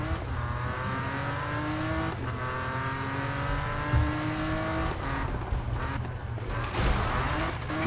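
Race car engine in a Need for Speed drift race, revving hard with rising and falling pitch sweeps as gears shift, with occasional tire squeal, loud and continuous with no talk.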